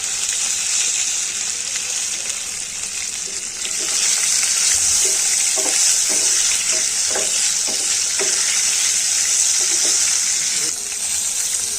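Pointed gourd slices frying in hot oil with a pinch of salt, a steady close sizzle that swells louder midway, with intermittent clinks and scrapes of stirring.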